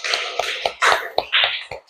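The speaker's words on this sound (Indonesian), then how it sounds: "tepuk tangan buat Aska." A group of children clapping in a classroom, a run of roughly eight quick, sharp, uneven claps over a couple of seconds, close and fairly loud with no talking.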